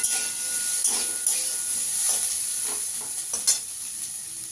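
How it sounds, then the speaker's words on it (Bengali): Whole cumin seeds and green chilies frying in hot oil give a steady soft sizzle, with occasional scrapes and stirring clicks over a continuous hiss, fairly close. "একটু ভেজে নেবো লাল লাল করে।"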